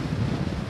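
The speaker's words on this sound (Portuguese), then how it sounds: "Notam que está ventando muito" Strong wind buffeting the microphone, a continuous low roaring rumble with gusty fluctuations and no voices.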